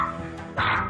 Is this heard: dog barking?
yes